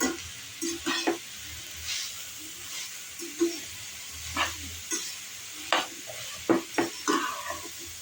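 Grated carrots for carrot halwa being sautéed in a pan, a soft steady sizzle and hiss broken by frequent spoon scrapes and stirring knocks, close and quiet, with no voices.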